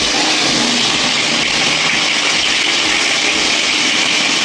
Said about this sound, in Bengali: মাছ ভাজা বসিয়ে দিলাম, মাছ কটা ভেজে নিই।